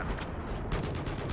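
Heavy booming weapon fire in Battlefield 4, a tank cannon shot heard as a dense, loud blast with rumbling low end that keeps rolling through the short moment.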